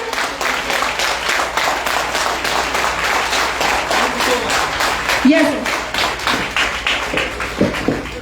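An audience at a corporate event in Gurgaon applauds loudly to welcome a speaker, a dense, continuous clatter of many hands with a voice briefly heard over it.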